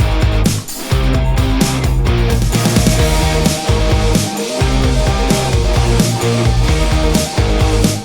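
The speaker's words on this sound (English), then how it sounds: "we are going to make a pop rock song and it's gonna sound like this" A pop rock song plays loud and full, with driving drums, bass and layered guitars and keys in a steady groove that drops out briefly a couple of times.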